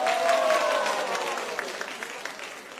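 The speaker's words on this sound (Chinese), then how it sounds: "大家掌声鼓励一下。" An audience applauds at a stage event, dense clapping loudest at the start and slowly thinning, with a faint held tone early on.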